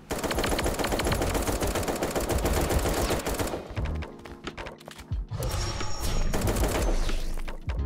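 AR assault rifle fire in the video game 1v1.lol: rapid automatic bursts, loud and close, a long continuous string followed by shorter bursts after a brief pause, with no talk.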